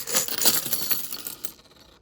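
UK pound coins tumble and clink together in a quick metallic cascade, bright jingling that thins out and fades within a couple of seconds.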